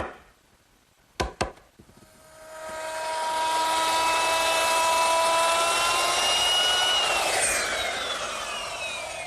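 A router spins up while cutting wood for a Shaker tall chest, after a couple of sharp clicks; a loud, high, steady whine with strong tonal overtones runs for several seconds, then dips as the bit bites.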